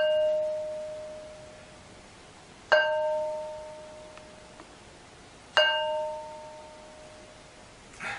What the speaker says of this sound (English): Demonstration how these stones ring like bells